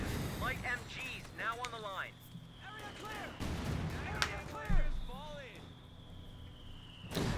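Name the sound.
mortar shelling in Company of Heroes 2 video game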